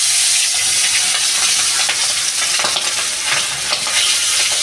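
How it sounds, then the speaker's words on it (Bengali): Pieces of hilsa fish fry in hot oil in a home kitchen pan, giving a loud, continuous close-up sizzle and crackle with occasional stirring, no voices. "এবার আমি মাছটা ভেজে নেব"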